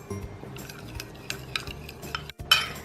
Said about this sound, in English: Now we're gonna mix this.